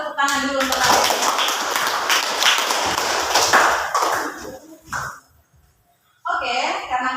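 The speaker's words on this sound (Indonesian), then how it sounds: "Tepuk tangan dulu untuk kalian." Classroom of students clapping together in a burst of brisk, loud applause for several seconds that tapers off into near silence, with a teacher's voice speaking briefly before and after.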